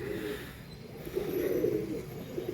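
A racing pigeon of a prize-winning breed coos in a low, throaty burble that swells in the middle, close and fairly quiet against a steady background hiss.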